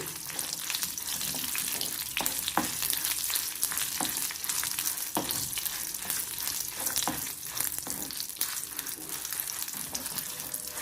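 Fenugreek seeds and dried red chillies fry in a pan for a fresh coconut chutney, making a steady close hiss of oil with scattered crackles and pops throughout.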